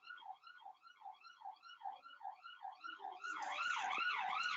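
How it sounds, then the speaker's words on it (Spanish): An ambulance siren wails in repeating up-and-down sweeps outside across the street, growing louder and fuller toward the end as it draws nearer, with traffic noise underneath. "Una disculpa por el ruido de fondo, espero que pueda pasar pronto la ambulancia que se encuentra aquí enfrente."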